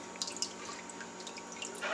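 Homebrew beer wort trickles and drips faintly into a vessel as it is poured, a soft, steady liquid sound with a few brief splashes.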